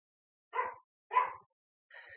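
A dog barks three times, short separate barks spaced about half a second apart, close and clear against silence.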